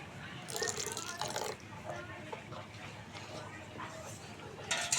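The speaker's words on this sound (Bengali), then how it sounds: "এখানে আমি শিল ধুয়ে রাখা জলটা দিয়ে দিচ্ছি" Water saved from rinsing a grinding stone being poured into a thick lentil and rice batter, a soft splashing and dripping pour heard while a voice speaks.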